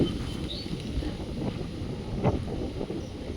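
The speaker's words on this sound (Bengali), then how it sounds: "ভীষণ ভালো হাওয়া দিচ্ছে" Steady wind blowing outdoors on a rainy day where mangoes are dropping from the trees: a continuous rushing, buffeting roar against the microphone that holds for the whole stretch, with no talking.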